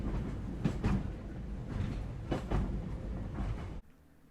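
An Island Line passenger train on the Isle of Wight runs steadily with a dense rumble and faint rhythmic clatter from the wheels, heard from on board, before the sound drops away abruptly near the end.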